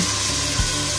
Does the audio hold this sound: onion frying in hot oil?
yes